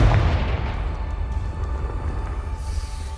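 A Confringo fire spell explodes in the video game Hogwarts Legacy, giving a heavy rumbling boom that stays loud and dense throughout before easing slightly at the end.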